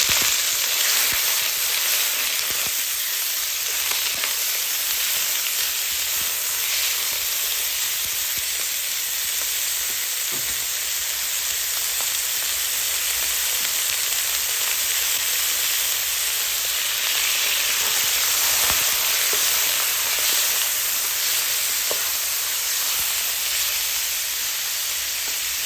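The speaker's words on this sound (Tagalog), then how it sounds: "Ay piprito na natin." Tofu and then pieces of meat fry in a hot pan, giving a steady, close, dense sizzle with faint crackles and occasional stirring, running unbroken with no talk.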